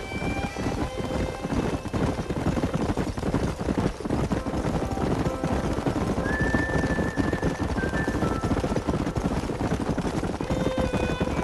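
Galloping horses in the Red Dead Redemption video game, rapid continuous clip-clop of hooves with an occasional whinny, steady and fairly close with no talk over it.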